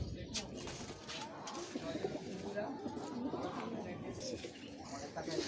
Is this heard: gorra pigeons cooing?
yes